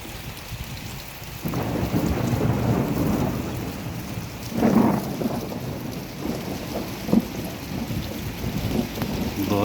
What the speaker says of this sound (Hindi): आसमानी बिजली के गरजदार आवाज़ें।